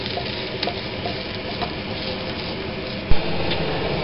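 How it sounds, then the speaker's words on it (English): Meat frying in oil in a pan for a pigeon pie, a continuous close sizzle with small spits and one sharp clatter near the end. "before we start frying the meat."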